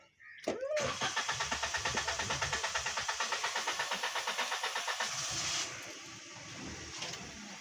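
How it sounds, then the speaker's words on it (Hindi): A Maruti Alto with crank and cam sensor faults (P0335, P0336) cranks for a long stretch, the starter chugging in a steady rapid rhythm for about five seconds before the engine catches and settles into an idle, close and loud. "गाड़ी अभी स्टार्ट हो चुकी है। काफ़ी लंबी सेल्फ लेने के बाद चेक लाइट अभी भी आ रही है"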